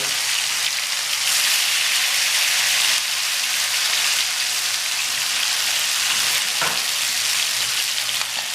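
Marinated tandoori chicken pieces fry on a hot tawa with a loud, continuous hissing sizzle close up, steady across the whole stretch with a brief clatter near the end.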